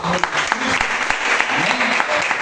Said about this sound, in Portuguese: Uma salva de palmas para o Senhor.